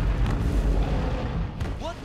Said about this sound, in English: That was definitely an explosion of some sort.